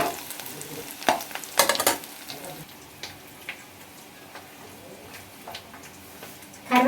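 Curry leaves frying slowly in hot oil, a soft steady sizzle with scraping stirs and a few louder clatters near the start and end, with brief speech nearby.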